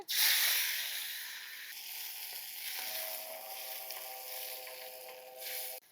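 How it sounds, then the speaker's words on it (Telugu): Dried prawns that were washed beforehand drop into a little hot oil and fry with a loud, steady hiss and sizzle that fades slightly, close up with no talking. "ముందుగా ఇలా కడిగి పెట్టుకున్న ఎండ్రోయిలు నూనెలో వేపుకుందాం అండి"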